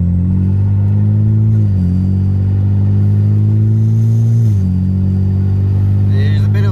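Deep droning engine of a BMW 335i with a 19T turbo and tune under hard acceleration, loud and close from inside, with steady pitch rising through gears and a brief shift dip.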